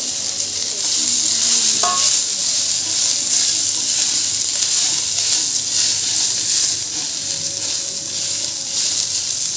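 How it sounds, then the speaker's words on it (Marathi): Onion roasting in a pan with coconut and tomato for a Bhogi mixed-vegetable dish, a loud, continuous close sizzle and hiss with a few faint clinks. "इथं आपला आता कांदा भाजतोय"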